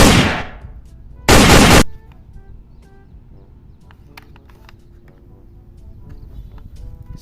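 A black Spider-Man toy gun fires electronic shooting effects: a loud burst at the start and a second short, harsh blast shortly after, followed by quieter clicks and handling noise with faint background voices.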